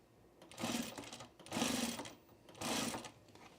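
A sewing machine stitches through a pre-quilted jacket in three short, even bursts, close and moderately quiet, with brief pauses between them.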